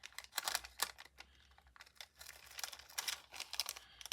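Paper scissors snipping through paper at close range, a quiet series of short crisp cuts in irregular bursts with no voices.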